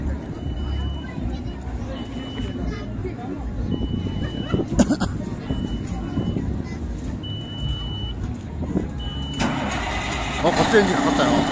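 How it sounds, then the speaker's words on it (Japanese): A car engine cranks and catches among parked vehicles at an outdoor festival on the Kadena Air Base, with crowd chatter and voices throughout and a dog barking nearby. "あ、こっちエンジンかかったよ。"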